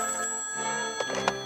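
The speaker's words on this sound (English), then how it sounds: "Just then, the phone rang." An old-style telephone bell rings in short bursts, a bright, fairly close electric trill heard on its own without talking.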